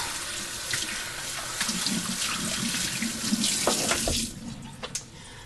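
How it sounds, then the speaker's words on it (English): Water runs steadily from a kitchen tap as sourdough is rinsed off utensils and a measuring cup, a continuous splashing rush with small clinks, then the flow cuts off near the end. "Make sure that you rinse all the sourdough off of your utensils"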